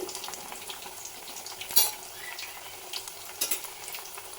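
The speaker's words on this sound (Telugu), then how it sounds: "ఇవైతే బాగా వేగాలి గోల్డెన్ కలర్లో వస్తే బాగా ఉంటాయి" Sweet corn vadas frying in hot oil give a steady, moderate sizzle with a couple of brief clinks of utensils as they are turned, and no voices.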